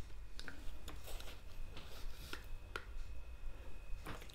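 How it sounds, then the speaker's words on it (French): Washing soda crystals being scooped with a tablespoon for homemade laundry detergent: a series of faint, close crunchy scrapes and gritty rubs at an irregular pace, with no talking. "je viens ajouter 2 cuillères à soupe de cristaux de soude"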